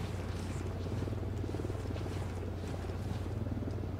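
A helicopter in Ghost Recon Wildlands gives off a steady, fairly faint rotor thumping with a continuous low hum, as if hovering at a distance.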